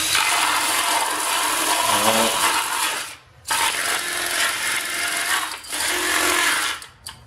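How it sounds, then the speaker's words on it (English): An old hand deburring tool scrapes along the edges of a plastic 3D printer cartridge, producing close, raspy rubbing strokes in several bursts separated by brief pauses. "It's just an old burr."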